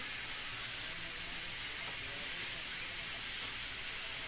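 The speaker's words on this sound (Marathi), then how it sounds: "मी आता इकडे कांदा असा भाजून घेतला" Chopped onion fries in a pan for egg bhurji, a steady, even sizzle and hiss that runs unbroken and close, with no voices over it.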